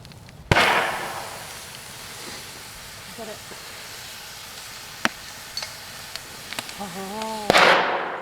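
A homemade can cannon fires with a sharp, loud boom, then quieter pops and crackles with a hiss, and a second loud blast ends it.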